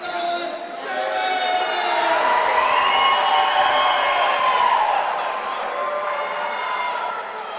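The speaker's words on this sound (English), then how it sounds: "let's give a big round of applause for Nolan Davis!" Crowd at a fight event cheering and applauding for a fighter, a swelling roar of voices and shouts with clapping underneath, loud and sustained before easing slightly.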